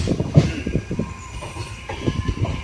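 Panchaganga Express passenger train (16596, Karwar to Bengaluru) running through Barkur railway station in coastal Karnataka, heard from on board: steady rumble of rolling carriages with rhythmic wheel clatter and faint squeal, close and continuous.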